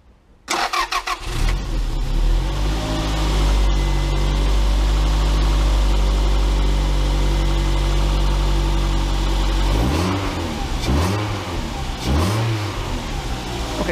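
A Toyota MR2-based Ferrari F355 replica engine, treated with rust penetrant, cranks and fires after a short silence, then settles into a loud steady idle close by before several throttle blips rise and fall near the end.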